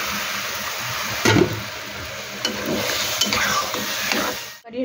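Bottle gourd tipped into a spiced masala hisses and spatters in the pan, with scraping stirs and clanks of a spoon over a steady sizzle until a sudden stop near the end.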